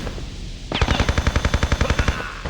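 Rapid-fire gun in Tomb Raider Chronicles, a fast burst of about fifteen evenly spaced shots lasting under two seconds, loud and close with no talk.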